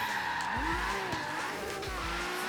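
Tires squeal in sweeping, rising and falling arcs as a Datsun 240Z drifts in the Forza Horizon 3 video game, several long skids over a steady engine drone.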